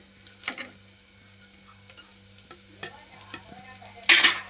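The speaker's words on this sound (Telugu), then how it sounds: "ఇవన్నీ వేసుకున్న తర్వాత బాగా వేగించుకోవాలి" Pepper, bay leaves and curry leaves fry in a pan for mutton soup, giving a faint, low sizzle under a steady hum, with soft stirring scrapes and a louder sizzling burst near the end, without talk.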